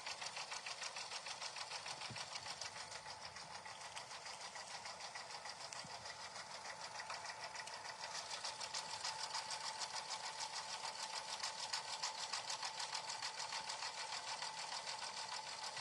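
An embroidery sewing machine stitching out satin stitches runs continuously with a fast, even rattling needle rhythm, steady and moderately close, with no talk.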